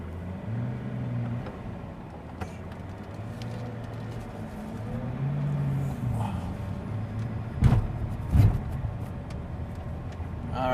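A Pagani Huayra cruises on the road, its engine droning and rising and falling through gear shifts, heard steadily from inside with a couple of louder thumps toward the end.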